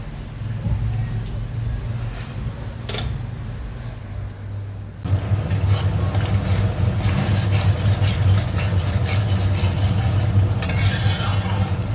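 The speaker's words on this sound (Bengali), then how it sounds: "এখানে মশলা কষানো হয়ে গেছে আদা কাঁচা লঙ্কা টমেটো পেস্ট করেছিলাম জিরে তেজপাতা শুকনো লঙ্কা ফোড়ন দিয়ে মশলাটা দিয়ে নারকেল কোড়াটা" Spice paste of ginger, green chilli and tomato with grated coconut frying in a pan, a thin background hiss that swells into a loud, dense sizzle with a stirring scrape, and a voice talks over the cooking.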